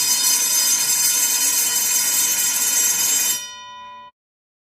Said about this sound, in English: At designated time, the bell will ring automatically.